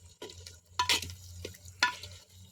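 Chicken pieces being sautéed in a curry pot outdoors, with a low simmering sizzle under several sharp stirring scrapes and spoon clanks against the pot, close and intermittent, no talking.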